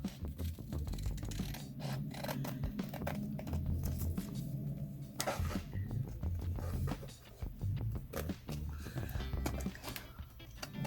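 Paper pieces being cut out by hand with scissors, giving steady small snips and rustles over about eleven seconds, with handling noise and a low background hum.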